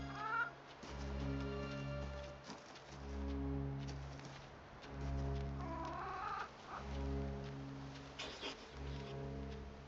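A chicken clucks in the video game Reka, short harmonic calls repeating in bursts over a sustained tonal backdrop, moderately quiet and with no talking.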